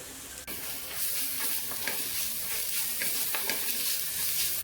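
Turmeric, Kashmiri red chilli powder and garam masala being stirred into a cutlet mixture frying in a pan: a steady close sizzle with soft spoon scrapes throughout, no voices.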